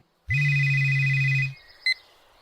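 A telephone rings once in a single long, loud electronic tone that cuts off after about a second, followed by a brief faint chirp, with no voices.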